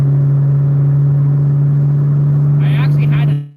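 A car engine drones steadily at a low, constant pitch while climbing a hill in a lower gear after a downshift, loud and close, with a brief higher rattle near the end before it cuts off.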